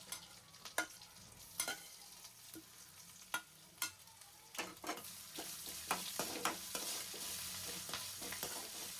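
Green chillies, curry leaves and ginger go into a hot pan for millet pongal, giving a quiet background sizzle. Scraping stirs and clacks land at irregular intervals before a denser, more continuous frying crackle builds.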